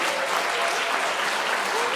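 A concert audience at a spring school orchestra event applauds a fiddler. The clapping is dense and continuous at a steady, fairly loud level for the whole stretch, with no talking over it.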